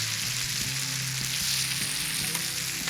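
Chicken frying in a pan with a dense, continuous close sizzle and a few faint stirring taps underneath.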